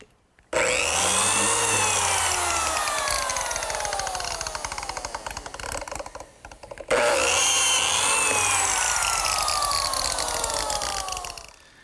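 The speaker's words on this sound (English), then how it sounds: "I use this biscuit joiner, which is a tool specifically designed to pivot and plunge this little saw blade" A biscuit joiner plunges its small saw blade into wood to cut a half-moon slot, giving two loud, close, screeching cuts separated by a brief pause, each with a whining motor and a rough grinding rasp.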